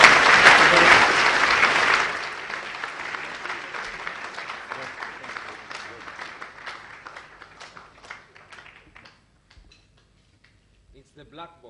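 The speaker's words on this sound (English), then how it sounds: "Let's give a true Kenyan clap to Ngugi Kiuna" Applause from a Kenyan business audience welcoming a guest at a keynote event, loud and dense for the first two seconds, then thinning into scattered claps that fade out near the end.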